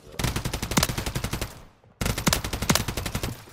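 Rapid automatic gunfire in Call of Duty, two loud, close bursts of evenly spaced shots separated by a brief pause.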